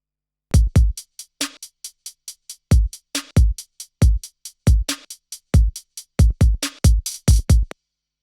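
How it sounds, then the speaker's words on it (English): Electronic drum hits from a Cymatics sample pack play in a punchy, dry pattern: booming kicks, sharp snares and crisp hats in a steady groove with clean silence between hits, loud and alone. "all the drum samples which you hear in this track are all from that Cymatics sample"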